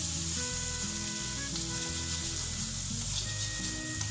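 Paneer sizzling with onion and tomato in a pan over a flame, a steady hiss of frying with soft music running underneath and no talk.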